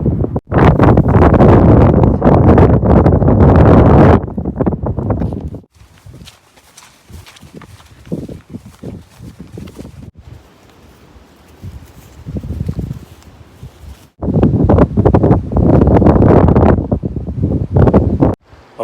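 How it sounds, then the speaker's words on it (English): Strong gusts buffet the microphone on a rural footpath in Northumberland, loud roaring bursts at the start and end with quieter rustling and a few footsteps between. "I hope you can hear me because the wind's picked up quite a bit."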